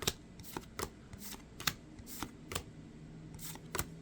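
Pokémon trading cards from Crown Zenith packs being peeled apart and sorted, a quiet series of soft flicks and snaps at irregular intervals, close and alone.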